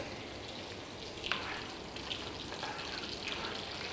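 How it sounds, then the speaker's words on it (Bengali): Onion and garlic frying in a pan give a steady, moderate sizzle with a few brief crackles and pops scattered through, no voices over it. "আমি কিন্তু সুন্দরভাবে পেঁয়াজ রসুনটা ভেজে নিচ্ছি"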